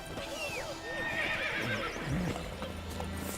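A horse in The Witcher 3: Wild Hunt whinnies with a rising, wavering cry while hooves clip-clop beneath it, close and clear over a soft game backdrop.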